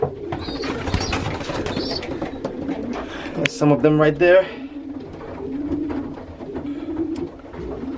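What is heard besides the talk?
young racing pigeons cooing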